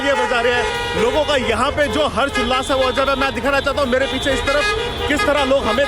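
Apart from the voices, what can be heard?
car horns honking in street celebration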